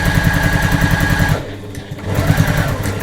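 A sewing machine hums in a loud, rapid stitching rhythm along the folded edges of a woven pouch, pausing briefly midway before starting again, with no voices.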